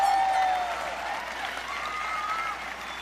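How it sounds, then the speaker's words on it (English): An audience applauds at a 2017 high school commencement ceremony, a steady wash of many hands clapping at once, fairly loud and sustained throughout with a faint tonal whistle or feedback line early on. "You can clap on that"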